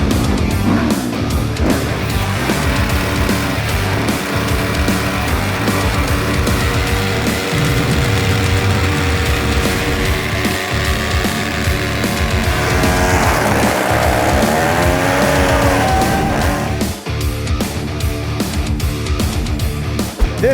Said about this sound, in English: we're gonna just rev the Jake brake and do a burnout until the tire comes off